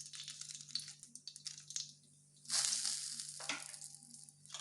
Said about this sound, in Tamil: அது கொஞ்சம் ஃப்ரை ஆகட்டும்.